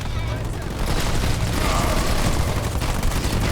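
Grenade blasts and gunfire from a Halo Wars 2 battle rumble continuously in dense, overlapping bursts, loud and close, mixed with low game voices.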